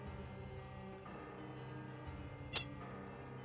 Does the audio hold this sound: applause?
no